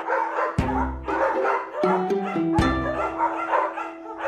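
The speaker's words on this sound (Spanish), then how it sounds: "aunque sea en un hotel de perros." Dogs at a dog hotel bark loudly and close by in sharp, repeated bursts, several barks spaced irregularly, with busy background noise between them.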